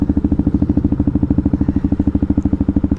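A Honda Grom motorcycle fitted with a quiet exhaust baffle idles close by, putting out an even, rapid, low thumping pulse with a slight rattle. The rhythm stays steady for a few seconds and no one talks.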